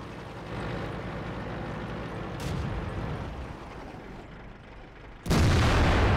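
A tank cannon booms in the World of Tanks video game, one sharp loud shot arriving near the end after a stretch of rumbling battlefield ambience and a fainter earlier blast.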